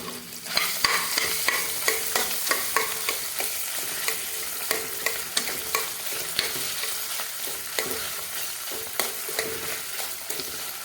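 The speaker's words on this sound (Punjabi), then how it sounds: "ਹੁਣ ਆਪਾਂ ਪਾਵਾਂਗੇ ਇਹਦੇ ਵਿੱਚ ਪੇਠਾ" Boiled pumpkin being stirred and fried in a pan, with a steady sizzle under repeated scraping strokes of a spoon at a regular pace, close and clear, with no talking.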